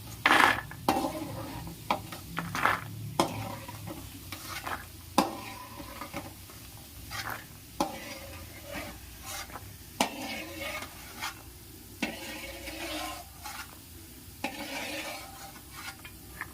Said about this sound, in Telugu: వీటిని ఆయిల్లో బాగా వేయించుకోవాలి